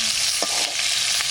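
Singhi catfish frying in plenty of hot oil, giving a steady, loud broadband sizzle that runs unbroken through the whole moment, with a few brief stirring scrapes on top and no voices.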